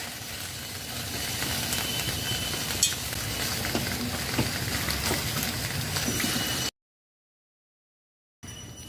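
Whole young green peas, washed, go into a pan on the stove, giving a steady close hiss and sizzle with some stirring scrapes, then a brief silence before the sound returns.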